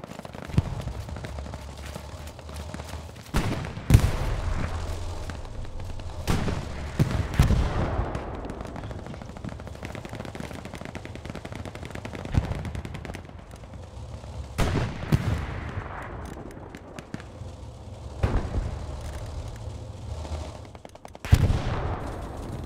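Artillery shells and gunfire from Hell Let Loose, a World War II shooter, with repeated heavy booming impacts spread across the stretch and steady rattling shots between them, loud and dense throughout.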